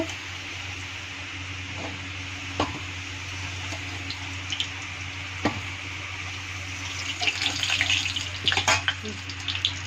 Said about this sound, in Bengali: আলুটা ভাজা হয়ে গেছে, এখন আলুটা আমি নামিয়ে নিব।